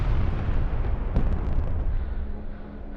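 Artillery shells burst in the war video game Broken Arrow, a dense rumbling roar of explosions with one sharper blast near the middle, loud and sustained before tapering slightly.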